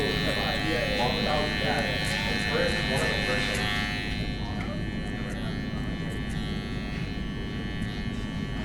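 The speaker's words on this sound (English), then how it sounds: "when I hold my clipper, the heel of the clipper is on their head, and I'm just riding the hair" Electric hair clippers buzz steadily and close up while cutting a burst taper fade on a young client's head, the blade riding the hair with small flicking passes; a voice talks over the hum throughout.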